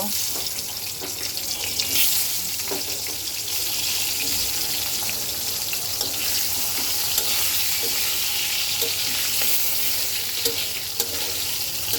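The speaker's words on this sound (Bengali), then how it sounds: "মাছ ভাজা তেলের মধ্যে সেদ্ধ করা আলুগুলো একটু ভেজে নেব" Boiled potatoes fry in oil left over from frying hilsa fish, giving a steady, close, even sizzle that runs the whole time with faint clinks and stirring.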